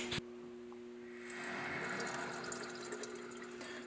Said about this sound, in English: I'm basically going to turn on the hot water, let all the water drain out